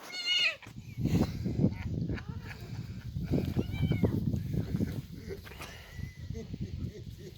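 A cat lets out a loud meow at the start, followed by people talking over scuffling and rustling noises.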